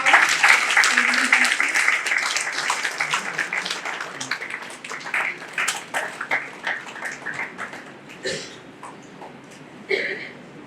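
Audience applause at a national academic conference on sustainable business after a felicitation of a university patron; dense clapping fades gradually into scattered, sparse claps over the final seconds, with a faint voice mixed in early.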